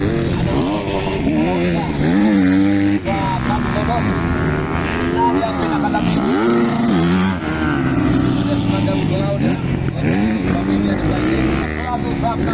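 250cc motorcycles race in an Inter Pro event at Lantapan, Bukidnon, engines rising and falling through repeated shifts in a loud, continuous passing roar, with excited commentary running over the top.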